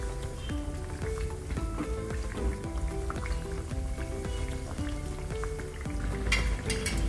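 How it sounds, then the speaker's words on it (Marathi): Wheat flour biscuits frying in oil on a low flame: steady soft sizzling and bubbling with scattered crackles and pops, accompanied by light background music. "एवढ्याच लहान फ्लेमवरच ती चांगली तळून घ्यायची आहे"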